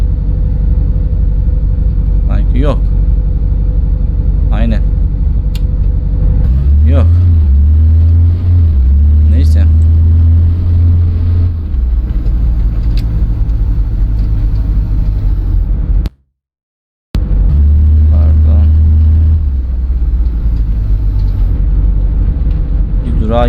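A minibus engine drives along in Tourist Bus Simulator, a steady low hum that swells into a deeper rumble as it accelerates. It cuts out briefly and then resumes, with someone talking over it.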